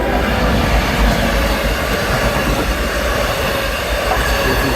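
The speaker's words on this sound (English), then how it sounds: "This is a dual mode or diesel locomotive with bi-level cars heading eastbound to unelectrified territory" An LIRR dual-mode diesel locomotive hauling bi-level cars eastbound passes close at Woodside, a loud, steady roar of wheels and engine with faint squealing and no talk.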